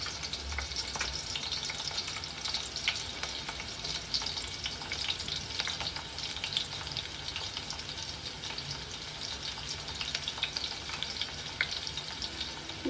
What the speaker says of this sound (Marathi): थोडं लसूण ब्राऊन होऊ द्या।